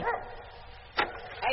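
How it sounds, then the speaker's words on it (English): A dog yaps in a radio-drama sound effect set on a sheep station, with two or three short, sharp yips fairly close against a quiet background. "Dog's only got to yap a little and you think it's dingoes after the sheep."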